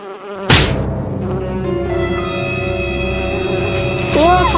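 Mosquitoes whine close around a face, a thin, steady, continuous high-pitched buzz that stays loud and near throughout, with a brief sharp onset near the start and no talk over it.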